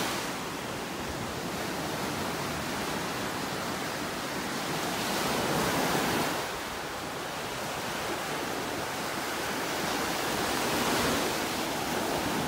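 Ocean surf breaking on a beach in North Naples, Florida, a steady broadband wash that swells and eases in slow surges, with the loudest crests around the middle and near the end, and no voices.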